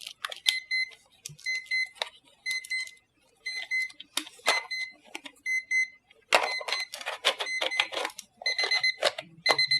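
A Bionicle alarm clock sounds its alarm: bursts of bright electronic beeping tones in repeated patterned phrases with short gaps, loud and close, no talk.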